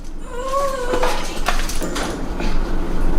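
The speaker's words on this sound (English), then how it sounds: "Husky almost dies at the pet groomer?" A husky at a pet groomer lets out a rising, high-pitched whimper and whine over a dense, noisy background, with further faint yips as the sound continues.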